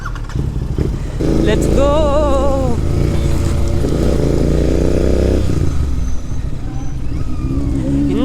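A Royal Enfield GT 650 motorcycle pulls away and rides on, its engine rumbling loud and close, with revs rising and gears shifting, while a rider talks briefly over it at the start.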